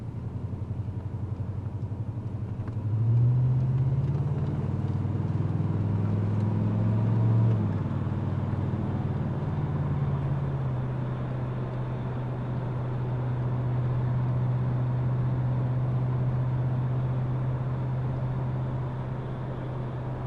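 A 1984 Chevrolet Monte Carlo SS on a test drive gives a steady low engine drone, swelling briefly as it accelerates, then settling into an even cruising hum inside the cabin.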